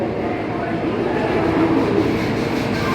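A Vande Bharat Express train pulls out of Howrah station bound for Patna, giving a steady loud rumble of rolling wheels and carriages heard from on board, with faint voices in the background.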